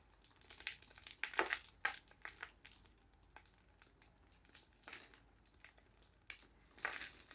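An anthurium clump being pulled apart by hand, with potting substrate crumbling and crinkling in short, dry bursts. The crackles are soft, close and come in irregular clusters with quiet gaps between them, and no one speaks.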